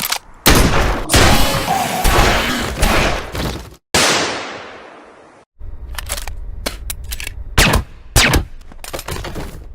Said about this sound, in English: Summer shooting Rick and Morty with a tranquilizer gun is classed as assault